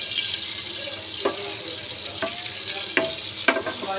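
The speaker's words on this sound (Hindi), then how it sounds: "ऑयल गर्म हो गया, इसमें हम डालेंगे काली मिर्च, साथ ही हम लोग इसमें डाल लेंगे ज़ीरा" Black pepper and cumin sizzling in hot oil for a dal tadka, a steady broadband crackle with scattered sharp pops and spits, close and moderately loud, with no talking.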